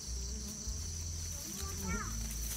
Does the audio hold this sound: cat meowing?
no